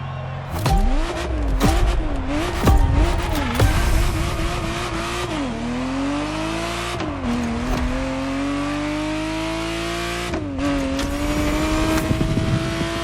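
A Ferrari Testarossa roars through gear changes in the racing game The Crew Motorfest, its flat-twelve engine rising and falling in loud revving sweeps with brief tire squeals, close and continuous.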